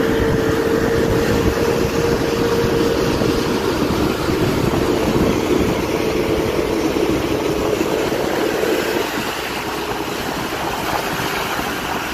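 A large intercity bus engine roars loudly and without pause while the bus races at speed along a highway, with a steady droning tone throughout.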